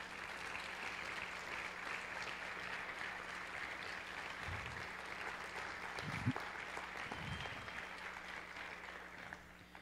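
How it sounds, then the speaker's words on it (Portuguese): Church congregation applauding, a dense, sustained wash of clapping that holds steady for about ten seconds, with a few low thumps underneath and no talking over it. "Você pode dar um aplauso bem forte a Deus?"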